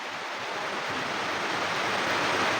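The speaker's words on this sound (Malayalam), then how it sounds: "അത്യാവശ്യം നല്ലപോലെ മഴ പെയ്യുവാണ്." Heavy rain near Palaruvi waterfall makes a dense, continuous roaring hiss that stays loud and even throughout, with no voices.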